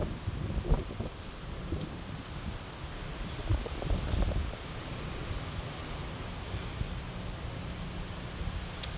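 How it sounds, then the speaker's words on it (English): Strong wind after Hurricane Milton batters the microphone around a log cabin, a steady broadband roar with low rumbling gusts throughout, loud and close. "very windy still out here."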